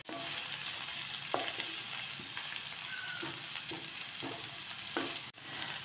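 Sliced onion and green chillies roasting in oil in a pan give a steady, moderately quiet sizzle, with soft stirring scrapes now and then and one brief clatter near the end.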